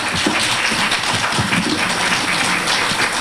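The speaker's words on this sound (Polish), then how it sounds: "Duże brawa, panie Wiesiu." Steady, dense applause from a concert audience fills the room for a performer at a Polish concert, continuing evenly without a break.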